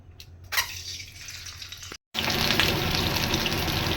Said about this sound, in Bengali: তেল গরম হয়ে গেছে, এবার আমি ডিমগুলোকে ভেজে নেব।